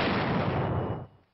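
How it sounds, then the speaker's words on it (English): A military mortar fires with a loud, close, sustained boom lasting about a second before dropping away, set in U.S. Army World War II combat training. "A mortar."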